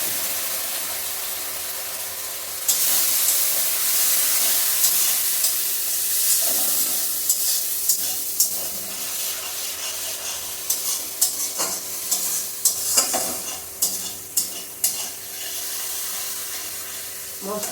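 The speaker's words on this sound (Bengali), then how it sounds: "আমি একটু জল দিয়ে মশলাটাকে ভালোভাবে কষিয়ে নিচ্ছি" Spice paste sautéing with a splash of water for a raw banana dhoka curry, a loud steady sizzle that jumps up as water hits the pan, followed by repeated scraping and stirring knocks close by.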